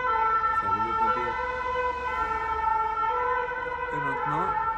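Fire engine siren wailing past in a town, a loud rising-and-falling electronic tone held throughout, with brief rapid yelp bursts, over road traffic rumble.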